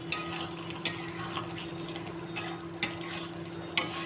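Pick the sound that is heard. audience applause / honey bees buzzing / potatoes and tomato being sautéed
potatoes and tomato being sautéed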